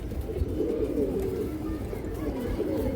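Ring-eyed pigeons of an old breed coo in a loft, a continuous low, throaty burbling from several birds close by, with no voices.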